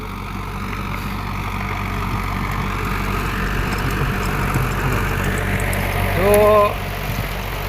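A Swaraj tractor pulls a rotavator through a stony field, its engine droning steadily with a heavy low rumble and grinding vibration. A voice speaks briefly near the end.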